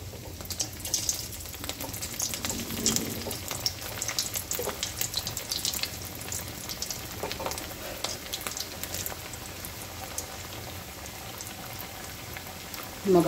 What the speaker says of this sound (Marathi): आता याला आपण पुन्हा एकदा फ्राय करायचं आहे. तेल आपलं गरम झालेलं आहे.